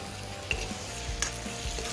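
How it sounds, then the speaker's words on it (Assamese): Chopped tomatoes hit a pan of chicken in an Assamese chicken curry and fry with a steady, close sizzle, broken by a few brief stirring clinks and scrapes. "কাটি থোৱা বিলাহীখিনি দি দিছোঁ ইয়াতে।"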